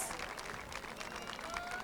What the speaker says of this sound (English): Yes, your parents deserve a round of applause.